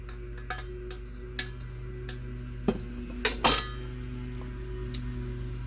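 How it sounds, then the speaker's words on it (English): A utensil stirs cooked, drained lasagna noodles into a skillet, giving a few scattered clinks and a couple of louder scrapes and taps against the pan over a low steady kitchen hum. "I'm going to add them right into the pan. I'm just going to stir them right in."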